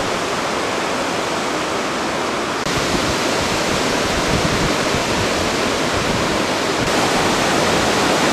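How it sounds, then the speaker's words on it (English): Storm surf and wind-driven waves wash steadily on Lake Nacogdoches, Texas, during Hurricane Ike in 2008, a loud, continuous broadband roar with gusting wind and no pauses throughout. "Look, we even have surf."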